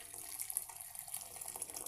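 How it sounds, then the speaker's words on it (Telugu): Hot water runs steadily into a cooking pot for pumpkin chicken biryani, a bright hissy splash and no talking. "ఫుల్గా అయితే వాటర్ పోసేసుకున్నాను"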